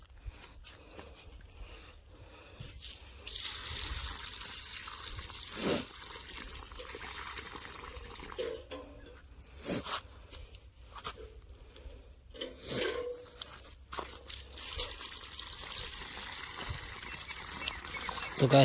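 Water poured onto onion plants in a field, an intermittent trickling and splashing pour with brief louder gushes and quiet gaps, fairly faint.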